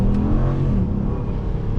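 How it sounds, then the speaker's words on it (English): A Ram 1500 pickup truck with a 5.7-liter Hemi V8, a brief deep, loud engine rumble at steady revs, close by with no talk. "The engine just sounds so good"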